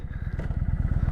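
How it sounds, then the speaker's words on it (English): A motorcycle engine is heard through a phone call while riding, a close, steady low throbbing rumble with a fast regular pulse and a bit of clatter. "I'm calling you while I'm riding my bike."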